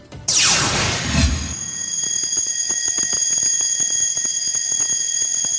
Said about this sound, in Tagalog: kalit nga mitingog ang alarm system